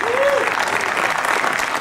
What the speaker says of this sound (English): Please, big warm round of applause to Cameron Davis.